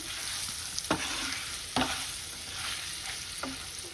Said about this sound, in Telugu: అడుక్కి పైకి కలుపుకోవాలి.